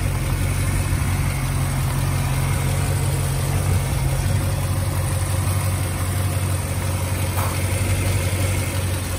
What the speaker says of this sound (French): Les moteurs tournent parfaitement.